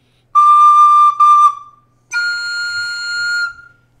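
Two high, clear sustained recorder notes played with the bottom hole half covered, the first briefly broken, separated by a short pause.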